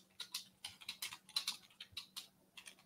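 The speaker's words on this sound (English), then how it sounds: "Loud ass keyboard." Loud computer keyboard typing, a steady run of rapid, close, crisp keystrokes in uneven bursts with no talk over it.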